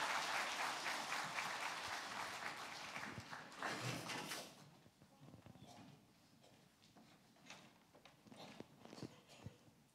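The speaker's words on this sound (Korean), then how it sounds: "큰 박수로 함께 축복하면서" Church congregation at a Christmas morning service claps for the choir before a Christmas cantata, dense applause for about four seconds that then drops off to scattered faint claps, rustling and footsteps.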